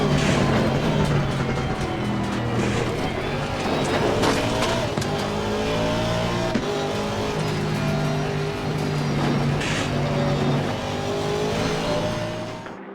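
Aston Martin V8 Vantage race cars in a sim racing game roar past in turn, engines revving up and down through gear changes, with tire squeal and loud, continuous motor noise throughout.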